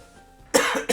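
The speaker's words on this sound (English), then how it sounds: "Oh, and then I always have a lingering cough." Two close, sharp coughs from a person with a lingering cough at the tail end of a cold, a longer hacking burst followed by a shorter one after a quiet lead-in, with no talking.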